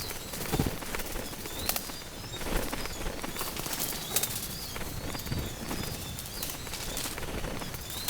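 Seabirds leave an open takeoff spot one at a time, their wings flapping in a steady broadband rush, with occasional louder flutters close by and faint calls mixed in, above the sea off Korea's east coast.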